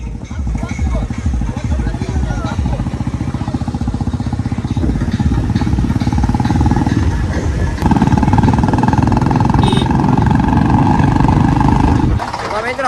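Loud, steady engine rumble with a throbbing low drone that swells midway, from Swaraj 744 and Eicher 485 tractors running close by, continuing throughout.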